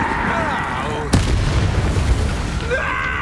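A booming spell blast from the Expulso explosion spell in the video game Hogwarts Legacy, one sharp loud burst landing mid-clip amid game sounds, with talking heard before and after it.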